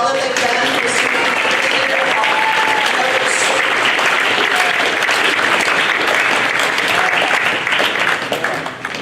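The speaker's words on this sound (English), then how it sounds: "let's give them a round of applause for all that they've done for student" A packed high school awards ceremony audience gives a sustained, loud round of applause for the student council, with dense clapping and some cheering that holds steady and thins out only at the very end.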